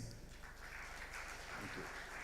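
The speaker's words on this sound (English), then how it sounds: "May we have big round of applause for Gujarat again, please." Clapping from an audience at an export promotion event in Gujarat, a broad, even wash of many hands applauding, steady and fairly distant across the whole stretch, with a faint voice underneath.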